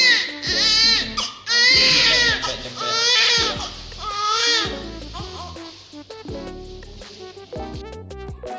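An infant aged zero to three months cries loudly in repeated wailing bursts with short gasping pauses, close and alone, gradually weakening into sobbing whimpers.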